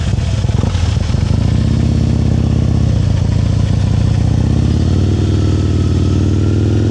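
A motorcycle creeps slowly uphill on the clutch, its engine loud and close with a steady low throbbing rumble that rises and shifts slightly as the revs change, with no voices over it.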